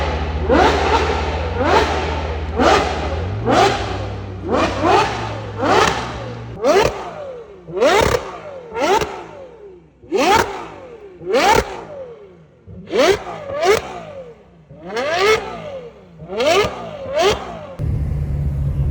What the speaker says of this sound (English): a 812 GTS and it's got a beautiful F1 Novitec exhaust which sounds amazing